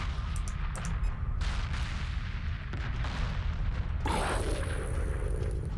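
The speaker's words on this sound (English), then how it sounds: "Nice explosions as well." Heavy booming blasts from ion cannon fire and destroyed ships in the space strategy game Homeworld, dense continuous rumbling explosions with overlapping impacts and bursts throughout.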